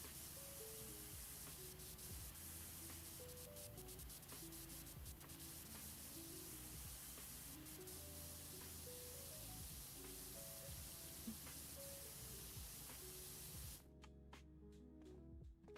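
Cleaner sprayed through a nozzle, a steady hissing spray running continuously for about fourteen seconds at close range, with no voices, then breaking off into a few faint scattered clicks.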